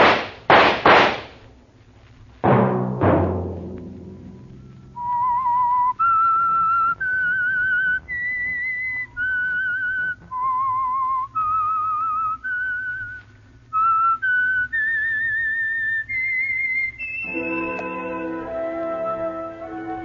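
A whistled melody of clear sustained notes, stepping up and down in a tune, preceded by a few sharp bursts and ending with a rising chord.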